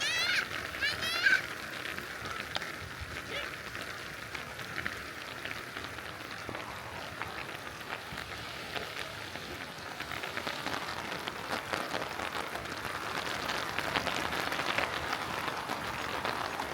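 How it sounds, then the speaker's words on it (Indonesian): Steady rain falls on a family campsite near Bogor, a constant dense patter of drops that continues throughout at moderate loudness, with a voice faintly audible in places. "Mudah-mudahan hujannya enggak deras dan enggak hujan angin."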